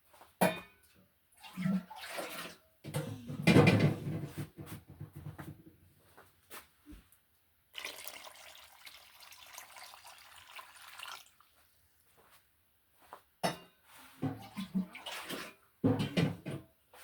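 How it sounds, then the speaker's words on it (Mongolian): Water is poured into a pot holding two jars while canned meat is prepared. The splashing pours come in several bursts with quiet gaps between them and are heard close up. There is no talk. "За би усаа хийж үзүүлнэ."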